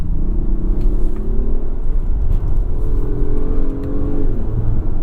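2025 Acura MDX Type S driven hard, heard from inside as a loud, continuous engine and road rumble with a rising engine note that climbs and drops across gear changes, no talk over it.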